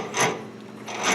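Drill press three-jaw chuck being loosened by hand, two short rasping metal-on-metal scrapes about a second apart, close and fairly quiet, with no speech.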